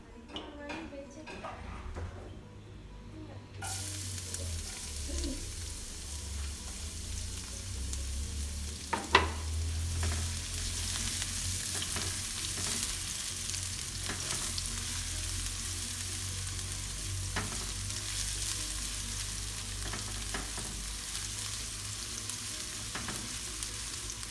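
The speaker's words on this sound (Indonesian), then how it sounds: "Bawang putih bawang merah dengan kurang lebih 7 sendok makan minyak goreng." Garlic and shallots frying in about seven tablespoons of cooking oil, a steady loud sizzle that jumps up when the ingredients hit the pan, with occasional stirring clinks and a faint voice in the background.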